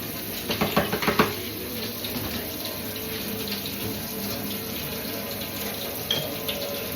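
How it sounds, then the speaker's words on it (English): Tap water runs steadily into a washing-up bowl in a kitchen sink during late-night dish washing, a continuous close rush with a few soft clunks near the start. "then we'll fill my bowl up."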